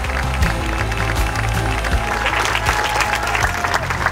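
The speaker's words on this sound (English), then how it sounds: "ladies and gentlemen, big round of applause, Stephen Galloway, Tova Laiter, and Sherry Lansing" Continuous dense applause from an audience greeting guest speakers at a speaker-series event, loud and sustained, with a low music or rumble bed underneath.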